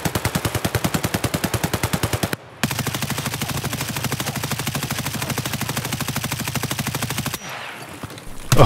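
A machine gun in Escape from Tarkov firing one long, unbroken automatic burst of rapid, evenly spaced loud shots, briefly interrupted near the start, then running several seconds before cutting off, no talk over it.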